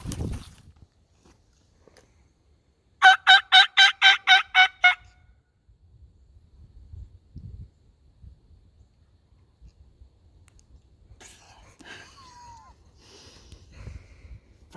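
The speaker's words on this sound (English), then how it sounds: "Marked a gobbler on public land." A wild turkey gobbler on Kansas public land lets out a single rapid, rattling gobble of about seven pulses at moderate distance. Before and after it there is near quiet, with only faint rustling and soft footsteps.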